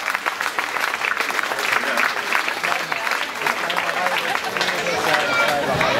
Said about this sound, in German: das ist auch nochmal ein Applaus wert.